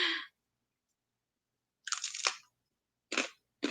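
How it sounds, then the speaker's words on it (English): Crunchy crackers crunched between the teeth in three separate bursts of close, dry crackling, with silent gaps between bites. "These crackers are so crunchy."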